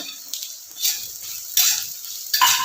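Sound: garlic frying and being stirred in a pan for beef pickle

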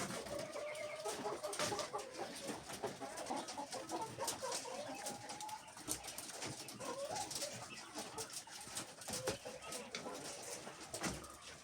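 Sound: chickens clucking

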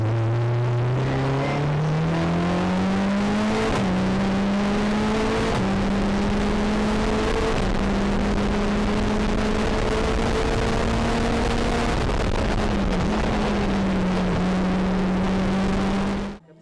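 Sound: Lotus 7 race car engine revving

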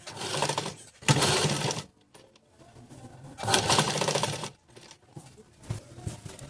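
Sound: sewing machine stitching fabric

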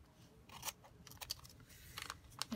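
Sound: trimming paper with scissors

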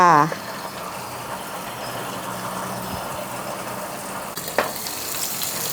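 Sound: two eggs frying in a covered pan

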